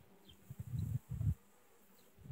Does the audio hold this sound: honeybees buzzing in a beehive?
yes